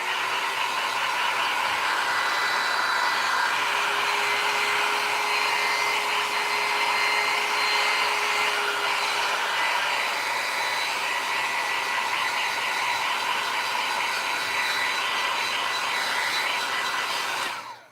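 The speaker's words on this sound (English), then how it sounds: "Try to blow the dust off." An air blower roars steadily and continuously close by while blowing dust off a terracotta flower pot, a constant whooshing hiss with a faint tonal whine that holds nearly unchanged until it stops at the end.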